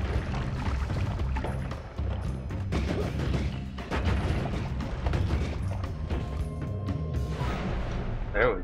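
Bombs fired from a wand in Noita explode in a rapid string of crunchy booms and crashes, dense and cluttered, over continuous game noise while a player talks.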